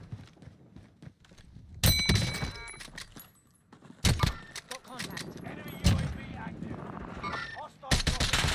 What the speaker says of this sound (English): I hear a sniper down here somewhere.